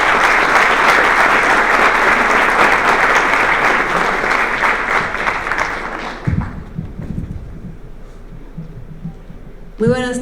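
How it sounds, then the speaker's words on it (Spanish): Loud, dense applause from an audience at an education event, a sustained roar of clapping that fades out partway through, leaving quieter room noise and a brief sound at the end. "vamos a darle un fuerte aplauso"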